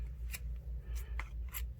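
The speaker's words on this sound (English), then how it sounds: "Love those scissors, don't you?" Scissors trim car-shammy fabric for a handmade Christmas gnome's beard, giving three crisp, close snips spaced about half a second apart over a low background hum.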